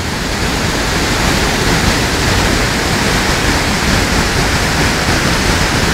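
Draysap waterfall, a large waterfall in Vietnam's Central Highlands, thunders in a dense, unbroken roar that stays loud and steady from start to finish, with no voices over it.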